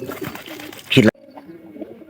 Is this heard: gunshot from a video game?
no